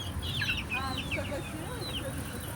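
Chicks and fowl cluck and cheep close by, a busy run of short high chirps and clucks over a steady rumbling background.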